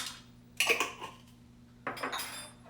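A measuring tablespoon scooping into a bowl while making vegan tacos, two distinct scraping clinks of metal against the dish, close and fairly quiet over a low steady hum.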